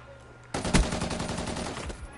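Rapid automatic gunfire from a first-person shooter video game, the R70 Ajax against a Peacekeeper, bursting in abruptly after a quiet moment and rattling on in fast continuous bursts, loud and close.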